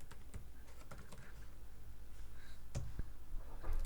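Typing on a computer keyboard while entering code for a scatterplot chart, with rapid close key clicks running steadily throughout and no talking.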